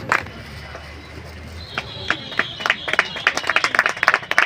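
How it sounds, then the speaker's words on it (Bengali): Scattered audience clapping at a Trinamool ward meeting in Sonarpur, starting softly after a quiet stretch and building into a fuller round of claps that grows denser and louder toward the end. "জোরে করো তাই সবাই জোরে করতালি হোক।"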